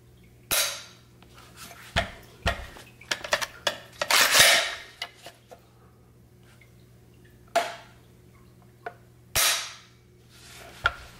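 A standard SCAR combat trigger on a $3,500 rifle being pulled and reset, giving a series of sharp mechanical clicks and clacks at irregular intervals, close and fairly loud with quiet gaps between.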